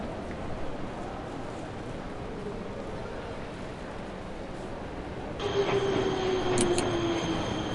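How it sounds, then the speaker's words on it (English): A subway train pulls into a station in the video game Nobodies: Silent Blood, with a steady rumbling roll, then squealing wheels and a high brake whine as it slows. "I should wait until a train is entering the station."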